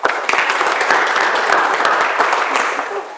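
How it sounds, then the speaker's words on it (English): Applause from a church audience, a loud, dense burst of many hands clapping that holds steady for about three seconds before easing off. "give him a round of applause"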